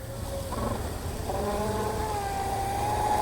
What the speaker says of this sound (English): You could hear the load on this propeller.